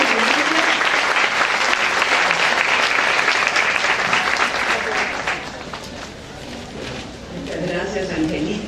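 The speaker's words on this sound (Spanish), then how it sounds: "volvemos a animarnos todos con un fuerte aplauso para ella" An audience at a day-long conference session applauds steadily for a welcomed speaker, a dense wash of clapping that lasts throughout and eases slightly toward the end.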